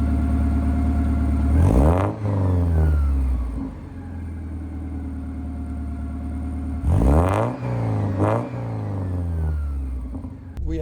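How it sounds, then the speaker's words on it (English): A Porsche 944 fitted with a new exhaust muffler revs up twice, the engine note climbing sharply and falling back each time over a steady idle, heard close and loud. "the first thing I did was give it a few revs just to hear the new muffler in"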